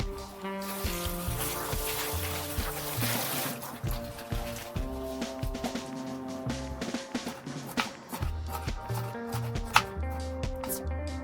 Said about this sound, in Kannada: ಸೊ ಈಗ ಸಣ್ಣದಾಗಿ ನೀಟಾಗಿ ಕಟ್ ಆಗಿದೆ